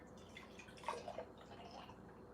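Juice poured into a container at home during a juicing session, a soft, brief splashing trickle that rises in the middle of the clip over faint background noise, with no talking.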